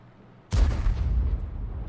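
A tank cannon fires in a video game as a single sudden heavy boom, close and loud, with a broad blast that decays slowly over a rumbling tail.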